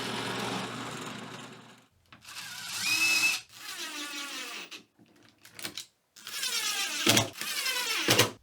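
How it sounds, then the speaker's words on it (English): Power drill boring a hole through half-inch-thick white oak in a woodworking shop, several bursts of whining drilling separated by short pauses, close and alone. "before drill this hole for that rod that links the two sides together"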